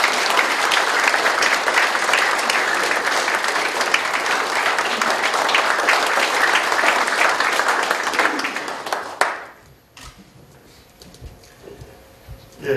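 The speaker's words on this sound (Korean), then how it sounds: "나오실 때 큰 박수 부탁드립니다" Loud, sustained applause from a large crowd at an inauguration ceremony for a police veterans' association chairman fills the room, then fades out abruptly, leaving near silence.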